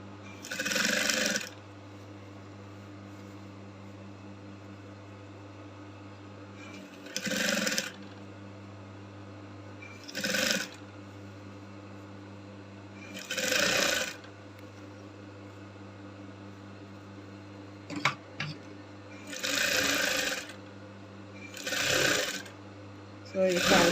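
A sewing machine stitching a transparent corset with an illusion neckline, running in several short bursts separated by pauses under a steady low hum, with a person talking in between.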